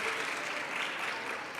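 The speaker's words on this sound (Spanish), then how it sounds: "Al Instituto Comercial de Valdivia, un aplauso" Students and guests at a talk on glacier change in Chile give a brief burst of applause, a continuous, even patter of many hands clapping at moderate level.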